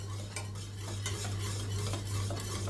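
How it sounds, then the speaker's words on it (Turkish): Dark chocolate sauce being whisked in a pot until the chocolate melts, a steady continuous swishing and scraping of the whisk over a low constant hum, no voices. "İyice çırpalım. Bitter çikolatamızı eritene kadar."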